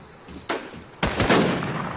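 Loud gunshots ring out in The War Z, a single crack followed by a quick pair of shots with a lingering echoing tail.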